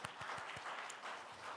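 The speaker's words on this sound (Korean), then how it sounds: "우리 박수로 한번 격려해 드리시고" A church congregation claps together in steady, dense applause, a soft, even patter of many hands with a few sharper claps near the start, heard from a little distance.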